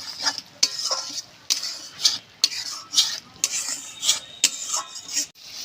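Spice masala with oil for alur dom being stirred in a pan, repeated scraping strokes of a spoon against metal at an uneven rhythm over a soft frying sizzle, no voices.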